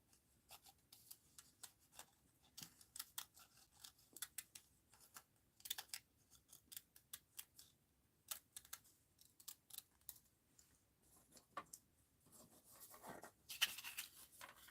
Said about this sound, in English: now we're going to cut this out